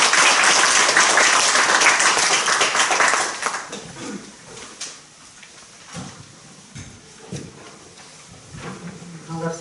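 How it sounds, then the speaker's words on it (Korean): Audience applause welcoming a speaker at a Won Buddhist gathering, loud and dense for the first three seconds, then thinning into scattered claps and room noise. "큰 박수로 환영해 주시기 바랍니다."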